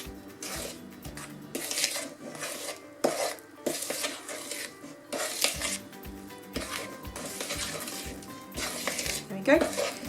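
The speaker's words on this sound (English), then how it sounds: "I'm just going to keep scraping the sides down and lifting all the flour off the bottom of the bowl as well" Spatula scraping around a mixing bowl as flour is folded into Garibaldi biscuit dough, with repeated rhythmic scrapes and soft knocks up close and a voice talking over part of it.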